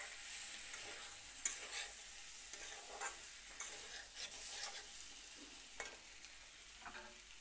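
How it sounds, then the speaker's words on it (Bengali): Fish head, pointed gourd and potatoes sauté with spices in a pan, a continuous sizzle broken by repeated scraping stirs of a spatula, fairly close and without talk. "যত ভালো করে মশলা দিয়ে মাছের মাথা পটল আলু একসঙ্গে কষিয়ে নিব"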